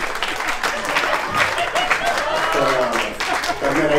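A comedy audience bursts into sustained applause and cheering for comedian Tanmay Bhatt, dense clapping filling the room continuously with a few crowd shouts mixed in.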